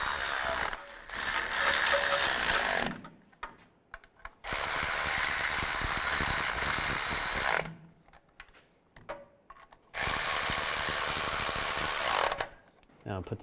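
A hand ratchet tightens bolts on a 2002-2009 Chevy Trailblazer engine during timing chain work, giving loud, rapid clicking bursts in three separate runs with short quiet gaps between them.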